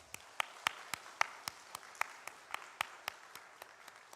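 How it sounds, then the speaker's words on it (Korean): Faint, evenly spaced claps from a church congregation during a Sunday worship service, sounding distant and sparse, each clap sharp and separate in a steady rhythm for a few seconds. "우리 박수 한번 하도록 할까요?"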